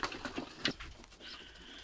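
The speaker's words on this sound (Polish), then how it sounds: "te gołębie mi przeszkadzają, bo są spragnione, chce im się pić" Pigeons in a loft, thirsty for water, give a few soft, close coos and rustles amid quiet shuffling.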